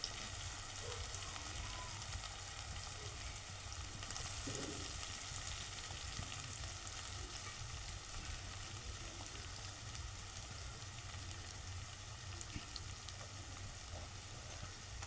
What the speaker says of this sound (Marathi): आपण आता हा चांगला परतून घेऊ गावची पारंपरिक रेसिपी आहे ही फोडणीचा भात